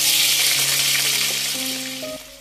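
Washed pieces of dried kattā paarai fish fry in a pan with a loud, steady, close sizzle that fades slightly toward the end, while faint tonal music sits underneath.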